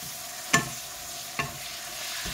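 Stir-frying wild garlic flowers with fresh shrimp in a pan, heard as a low steady sizzle broken by a sharp spatula scrape and two softer knocks, with no voices.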